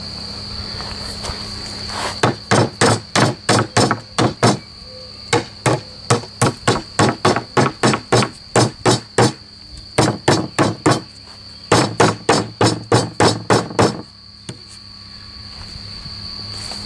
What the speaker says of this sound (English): take a hammer and gently tap that piece back down